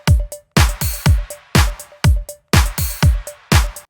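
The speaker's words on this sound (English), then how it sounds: "we're going to be showing you how to trigger a drum kit with ADM's built-in sequencer" A drum beat from the ADM drum machine plugin sequencer pounds out punchy kick and snare hits with crisp cymbal tails in a steady, looping pattern, loud and alone.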